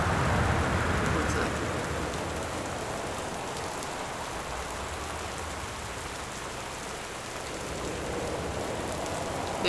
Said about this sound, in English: there's a downpour here too